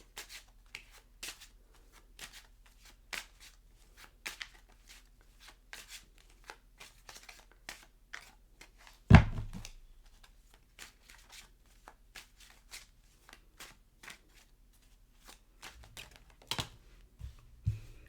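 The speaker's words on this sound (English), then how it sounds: "My shuffling skills are not the greatest." Tarot cards are shuffled in quick soft riffles and flicks, close and fairly quiet, with one sharp tap partway through.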